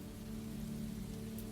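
Rain falls on a river surface in Florence, making a soft, even, spacious hiss with no distinct drips, steady and faint throughout.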